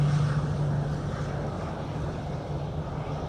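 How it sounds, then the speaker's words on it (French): A Super Tucano turboprop plane drones steadily in a wide, hissing rush of engine and wind noise with a low, faint hum underneath, without talk. "La verrière se referme et le Super Tucano s'élance pour un circuit de 4 tours à 1000 pieds"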